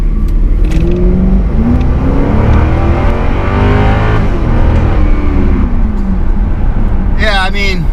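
A Cadillac XLR accelerates hard on a road test, its engine rising in a loud, climbing roar heard from inside the cabin as the pitch sweeps upward through gears, with people talking over it.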